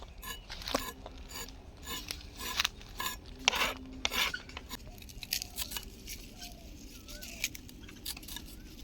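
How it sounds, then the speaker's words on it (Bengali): Carrots cut with a knife for a sour mixed-vegetable dish, a series of crisp uneven chopping and rasping strokes in bursts, close and fairly loud, with occasional pauses. "টক সবজির জন্য গাজরগুলো কেটে নিচ্ছি"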